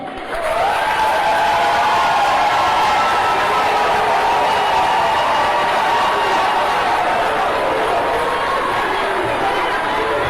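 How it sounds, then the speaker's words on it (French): A large crowd at a Cameroonian football awards gala applauds the national team coach: loud, dense, steady clapping mixed with crowd murmur, sustained without a break. "je vous prie d'applaudir Monsieur le sélectionneur Pagou"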